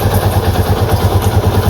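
An old vehicle's engine runs close by in a short, steady idle with an even low throb and a slight mechanical clatter.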